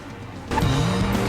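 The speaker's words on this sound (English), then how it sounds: "To start the race, pull up to the checkpoint and spin your wheels." Car in the video game Need for Speed: Most Wanted spinning its wheels at a race start: a sudden loud engine roar with tire noise kicks in halfway through and holds steady, with no talking.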